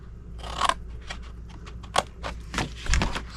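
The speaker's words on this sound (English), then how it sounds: "go to the next 2 score lines and cut them to the second score line." Scissors snipping through scored card stock for a beach-day treat box, a handful of quiet, irregular crisp cuts and crunches close by with no talking.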